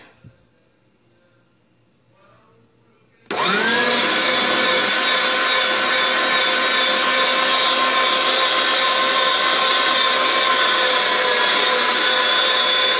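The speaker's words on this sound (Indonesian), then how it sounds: "ini udah aku blender semuanya" Kitchen blender whirs at high speed on a taameya falafel mixture, starting abruptly after quiet handling noises and holding a loud, steady, close motor whine with no talking.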